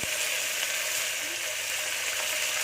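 Byadgi chillies and curry leaves, with a little garlic, frying in hot oil for a lentil saaru, giving a steady, dense crackling sizzle that holds evenly throughout with no talk.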